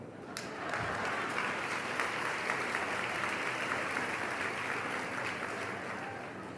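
An audience breaks into sustained applause, a dense, even wash of clapping that starts abruptly and holds steady for several seconds with no speech over it.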